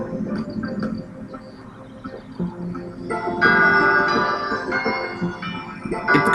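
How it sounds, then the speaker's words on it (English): Church bells ring out in a Final Fantasy video game, swelling from soft tolling into a bright, sustained chime over a low rumbling background, with no voices. "It kind of sounds like church when you hear the bells."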